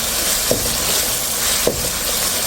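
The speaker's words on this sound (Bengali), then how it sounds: "এখন পেঁয়াজের সাথে একটু কষিয়ে নেব" Spices and onions sauté in a hot pan for a fish, ridge gourd, potato and pea curry, a steady close sizzle broken by two brief scrapes of stirring, with no talk.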